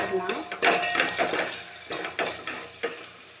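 Spices including sambar powder being sautéed in a pan for a Tamil greens kootu, with close stirring scrapes and a soft sizzle in irregular strokes, while a voice talks underneath.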